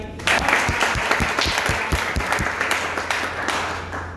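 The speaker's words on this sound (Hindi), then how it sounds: "एक बार आदरणीय सिंगर साहब के लिए जोरदार ताली।" Loud, enthusiastic applause for a singer fills a hall at a Hindi-speaking event, with distinct sharp claps standing out early over a continuous crowd roar that carries on steadily without speech.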